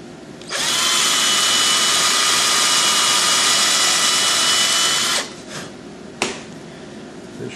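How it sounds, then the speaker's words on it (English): A drill with a 1/8-inch bit boring into a wooden carving runs loud and steady for about four and a half seconds, then winds down, followed by faint handling clicks and a sharp tap. "I've got an 1/8-inch drill in here now."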